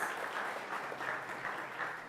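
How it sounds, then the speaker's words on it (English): An audience applauds panelists at a youth forum on digital gender-based violence, a faint, steady wash of clapping running through the whole short stretch. "Let's just give our panelists all a nice round of applause."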